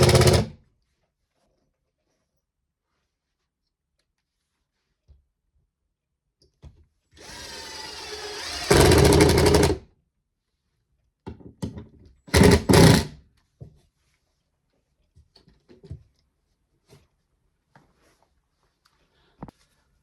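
A screw gun drives sheetrock screws into wooden backing behind a drywall patch: a long motor whine, then a couple of shorter bursts, with quiet handling clicks between.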